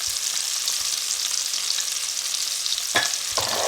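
Red onion and serrano peppers sizzle and fry in a pan, a dense steady crackling hiss with a couple of brief scraping stirs near the end.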